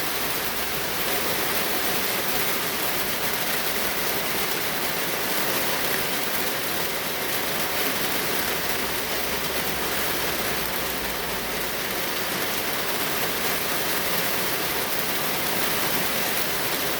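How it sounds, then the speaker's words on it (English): Steady rain falling outside over a garden with potatoes and onions, a dense, even hiss that holds unbroken and close throughout, with no voices. "I think the rain's here, you know."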